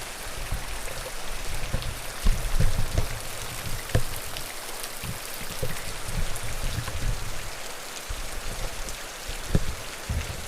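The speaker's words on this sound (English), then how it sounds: "Right now it's raining lightly. You can hear it," Light rain falls steadily outdoors, a soft continuous patter with scattered louder drips and splashes on nearby surfaces throughout, and no voices.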